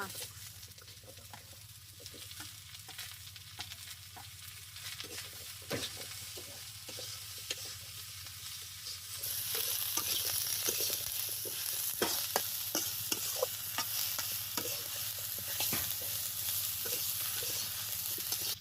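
Vegetables are added to a hot pan with a boal fish head being cooked, giving a steady close sizzle with stirring scrapes that grows louder and brighter partway through; a voice speaks faintly at times.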